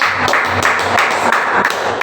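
An audience claps at a children's Christmas storytelling event: dense, steady, loud applause filling the whole moment without pause.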